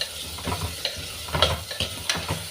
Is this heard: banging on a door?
no